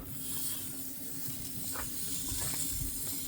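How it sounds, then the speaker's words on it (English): A tomahawk steak sears on a hot surface at a lakeside campsite, giving a steady, fairly quiet sizzling hiss that lasts the whole moment, with no voices. "Don't forget to sear the bastard on the face"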